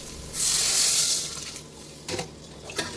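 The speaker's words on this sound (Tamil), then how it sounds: "நல்லா வதங்கி வந்ததும் தண்ணி ஊற்றிக்கலாங்க." Water is poured into a pan of sautéed vegetables, including cabbage, for sambar: a close splashing rush lasting about a second, then a few brief clinks and stirs.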